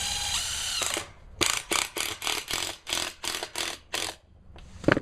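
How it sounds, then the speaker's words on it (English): A small 1/4-inch drive power driver sets screws with rubber washers into metal siding on a house. After a longer opening run it whirs in about nine short, loud, evenly spaced bursts with brief pauses between them. "Now I'm just putting them in with a little 1/4-inch drive right in the line I just drew."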